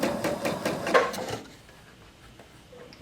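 Sewing machine joining quilt strips diagonally, a close rhythmic stitching rattle for about a second and a half before the machine stops and the room goes quiet.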